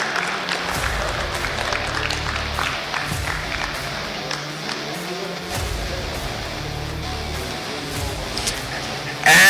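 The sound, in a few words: audience applause for esports podium finisher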